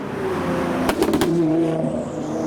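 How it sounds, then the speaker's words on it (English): A Nissan GT-R drives past at a Japanese car meet, its loud engine droning steadily with a few sharp pops, then fading away. "There's a GTR coming this way."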